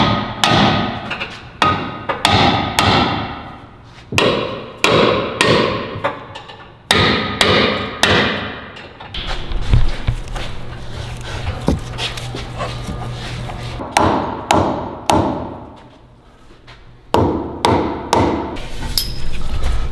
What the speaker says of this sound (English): we'll take a hammer and just kind of knock these out